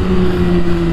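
A Kawasaki Ninja H2 motorcycle rounding a canyon corner, its engine a steady, loud drone with a strong sustained hum and rushing wind noise throughout a brief moment, no voices.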